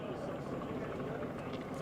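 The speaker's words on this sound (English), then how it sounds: "there are actually 2 helicopters flying on top of the crowd" Two helicopters fly over a protest crowd outside the Israeli consulate in Chicago during the 2024 Democratic National Convention. A steady, low rotor rumble sits under dense crowd noise and voices.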